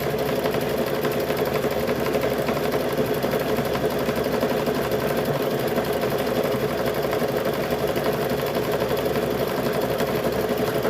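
Sewing machine running a blanket stitch on a car seat cover, a constant mechanical whir with a fast, even hum that stays steady and close throughout.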